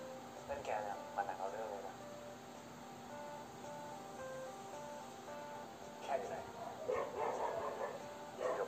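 Dogs bark and yip in a few bursts, medium-distance, mixed with people talking over a steady background hum.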